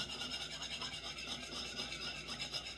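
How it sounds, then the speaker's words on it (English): Two eggs are whisked in a bowl with a fork, a quick rhythmic scraping and tapping against the bowl that repeats steadily at close range. "I've also cracked 2 eggs into this bowl. And I'm going to use it, whisk it."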